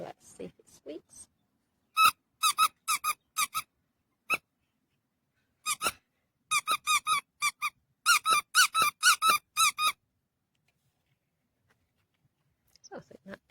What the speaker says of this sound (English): So hopefully let's see if it squeaks.